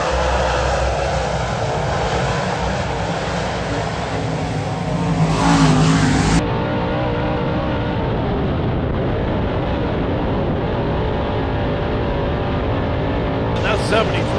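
A WISSOTA late model race car roars down the back straight into turn three, a loud sustained engine howl that shifts abruptly midway as the car passes, with an announcer talking over it.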